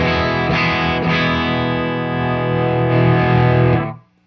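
An electric guitar played through a Distortion 3 pedal with its distortion knob turned down gives a mildly overdriven, ringing chord, re-struck twice early on, sustaining loudly and evenly before being cut off abruptly near the end.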